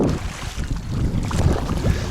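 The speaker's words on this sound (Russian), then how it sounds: "Лодка на веслах себя ведет очень хорошо." Continuous water sloshing and splashing with low rumbling as oars row a Flagman 330U inflatable boat through water, with no talking.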